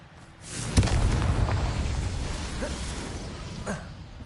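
A Confringo fire spell explodes in Hogwarts Legacy. A sharp boom lands near the start and leaves a rumbling, whooshing tail, with faint smaller crackles after it.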